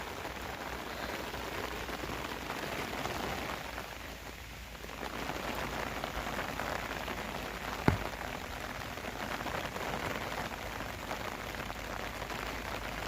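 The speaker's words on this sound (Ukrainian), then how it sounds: "Видно, що дощ йде?" Steady rain falls in a village, a dense, even hiss that continues throughout with a brief lull midway and one sharp click. No voices are heard.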